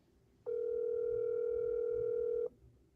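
A steady telephone tone sounds during a phone call, a single continuous beep of about two seconds that starts and stops abruptly over faint background noise.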